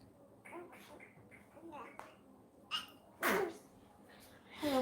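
A sharp, loud sneeze bursts out indoors amid soft, low talk, with a second burst right at the end.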